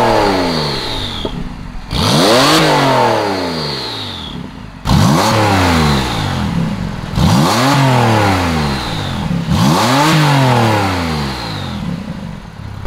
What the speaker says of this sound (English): we just got finished up with the exhaust installation on this Carrera S